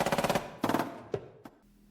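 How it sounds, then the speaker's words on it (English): Distant gunfire: a rapid automatic burst of about eight evenly spaced shots, a pause, a second shorter burst, then two isolated single cracks that fade, with no voices. "he heard the sound of distant gunfire"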